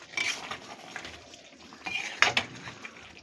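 A metal spoon scrapes and knocks against a cooking pot as potato and papaya curry with ghee is stirred, with irregular clattering strokes and one louder clank near the end, close and without talk.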